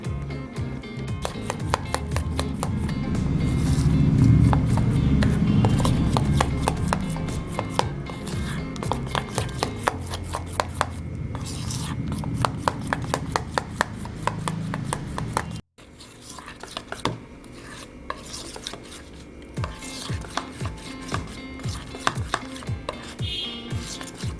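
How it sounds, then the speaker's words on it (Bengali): Gram flour batter with salt, nigella seeds and egg being mixed by hand in a bowl, a close run of quick rhythmic wet taps and scrapes, pausing briefly then resuming, with no talk. "এগুলো নিয়ে আমি এটাকে ভালো করে এবারে মিক্স করে নেব"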